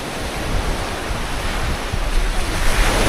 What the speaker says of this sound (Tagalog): Taas ng alon dun.